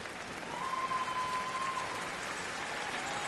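Applause and crowd noise fill a curling arena at the 2012 Scotties Tournament of Hearts, a sustained, even wash of clapping heard from a distance, with no clear voices.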